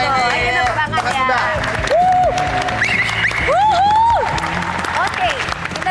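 Applause and cheering at a student band festival on a TV show, crowd clapping mixed with whoops and loud shouting voices near the microphone.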